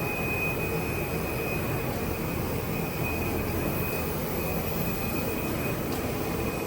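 A Weigang ZX-320 offset intermittent rotary label printing machine runs with a steady, dense mechanical roar and a thin high whine that stays constant throughout.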